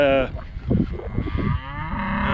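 Cattle on a farm, with bulls being separated from the cows at the end of breeding season, give a long, loud, close moo that carries through most of the moment.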